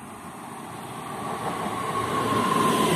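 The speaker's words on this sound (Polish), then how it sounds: "Wjeżdża pociąg Regio relacji Świnoujście - Poznań Główny." Regio passenger train on the Świnoujście–Poznań Główny route pulling into a Polish station, a steady rumble of wheels and rail noise growing louder as it nears, with a faint high wheel squeal toward the end.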